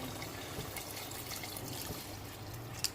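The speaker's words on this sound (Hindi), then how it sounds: "ये अब हम जो है 1 गिलास के करीब इसमें पानी डालेंगे," About a glass of water pours into a cooking pot holding chicken kofta curry and cut potatoes, a continuous soft trickle and splash at moderate distance with no talk.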